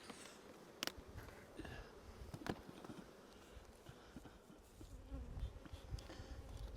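Honey bees crawling over brood comb in an open spring hive make a dense, steady close-up hum, with a few sharper buzzes as individual bees pass near.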